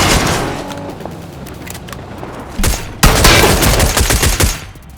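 Loud gunfire in a shooter video game, with bursts of rapid automatic fire and heavy shots that jump sharply in volume midway and continue in dense volleys until fading at the end.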